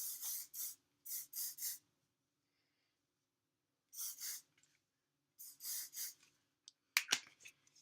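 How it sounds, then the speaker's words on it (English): Hairspray hisses onto hair in short close bursts: one, a pause, then two more quick sprays, later two further bursts, with faint rustling between. "And then I'll do a little hairspray just to try and hold them down."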